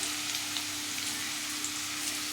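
Onions frying in a pan, a steady close sizzle with a soft crackling hiss and occasional popping spits, continuous and even throughout.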